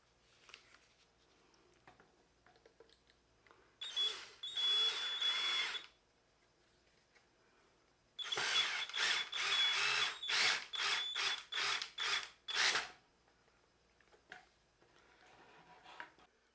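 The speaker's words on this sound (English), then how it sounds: "I'll drill a hole in the dome and through the wood in order to put the hook to hang the lantern" A power drill bores through oak wood in two bursts: a short run of about two seconds, a pause, then a longer stretch broken into rapid stop-start pulses. The whine is close and loud, with no voices.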